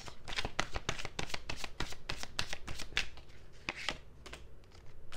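Tarot cards being shuffled up close: a rapid run of crisp, papery flicks and riffles in an uneven rhythm, fairly quiet, with no talking.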